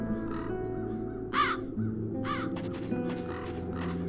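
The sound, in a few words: crows cawing in the video game The Dark Eye: Chains of Satinav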